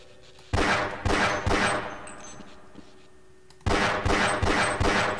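Rapid bursts of gunfire from the video game Half-Life ring out loud and close in two clusters, several sharp shots each, separated by a quieter stretch of low ambient game hum.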